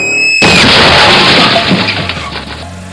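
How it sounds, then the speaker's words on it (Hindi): A speeding car crashes into a person on a rainy night: a brief tone cuts off into a sudden loud smash that stays harsh and broad for about two seconds, then fades, with no voices. "एकदम से किम के सामने एक गाड़ी आई और उसे जोर से टक्कर मार दी।"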